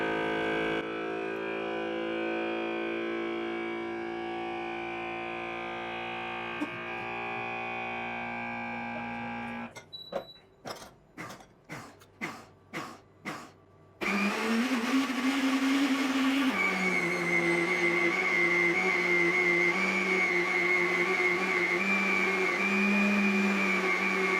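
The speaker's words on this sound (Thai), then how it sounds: "ซึ่งการปั่นด้วยระบบสูญญากาศนี่เองนะครับจะไม่เกิดออกซิเดชันในน้ำผักผลไม้นะครับ" An OZEN vacuum juice blender blends mango ice cream: a loud steady motor whine, then a few seconds of rapid stop-start pulsing bursts, then a loud continuous high-pitched whirring run again, with no talking.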